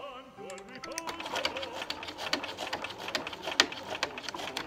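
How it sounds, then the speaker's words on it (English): Close up, a sewing machine back stitches along a seam in slipcover fabric with a rapid, steady clatter of needle strokes that runs the whole time, and no one speaks over it. "now we're going to back stitch from there"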